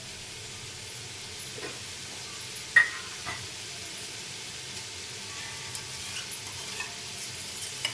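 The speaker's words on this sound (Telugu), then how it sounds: "ఎగ్స్ విడిపోతాయి కొంచెం స్లోగా కలపాలి" Egg biryani masala stirred slowly in a pan, a faint low sizzle running underneath with a few soft, sparse scrapes and one sharper clink of the utensil.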